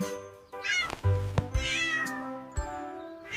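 Cartoon cat meows set in a children's nursery song: several bright, pitched meows ring out in quick succession over a cheerful musical backing.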